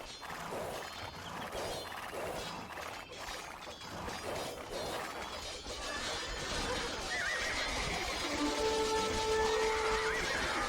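Knights' horses charge in a medieval strategy video game battle, with loud whinnies and rhythmic hoofbeats rising over a dense, continuous battle din that grows fuller toward the end.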